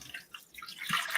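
Water drips and trickles out while a juice ingredient is opened for a juice detox, a brief bright splashing and dripping patter, close and soft, no talk.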